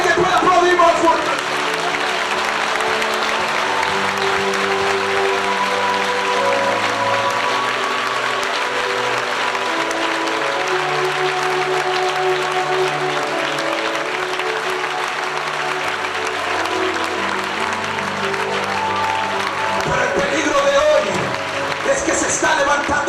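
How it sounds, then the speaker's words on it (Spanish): A congregation at a Pentecostal church retreat applauds in a strong, sustained wave that lasts about twenty seconds. Voices and tonal music carry underneath the clapping. "A ver, quiero que alguien pueda aplaudir más fuerte."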